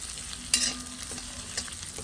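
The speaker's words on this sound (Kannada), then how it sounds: "ಜಸ್ಟ್ 2 ನಿಮಿಷ ಈ ಥರ ಫ್ರೈ ಮಾಡ್ಕೊಳ್ಳಿ." Raw jackfruit pieces frying in a pan for a crunchy chilli dish, a soft continuous sizzle with a sharp scrape of stirring near the start and another faint one later, fairly quiet and close, no voices.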